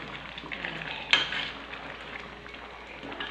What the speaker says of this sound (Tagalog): Ayan yung niluluto kong pata. Pata na may munggo.